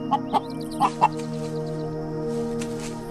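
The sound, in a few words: hen clucking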